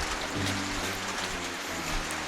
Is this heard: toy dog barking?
no